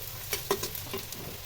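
A garlic and onion paste fries in a pan, giving a soft, steady sizzle with a few light stirring scrapes, heard close but faint.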